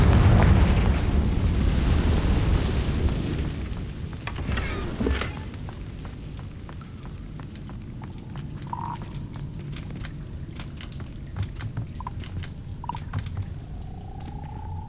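A Confringo blasting spell explodes in the video game Hogwarts Legacy, opening as a loud, broad rumbling blast that fades over several seconds into quieter ambience with scattered small pops and clicks.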